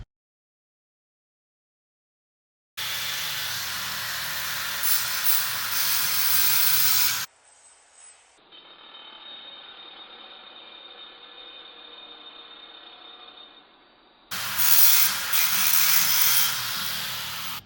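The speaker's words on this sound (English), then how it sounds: "What are you grinding off the floor there?" An angle grinder cuts big bolts out of a concrete floor with a loud, harsh, steady grinding roar in two long passes, separated by a quieter spinning whine.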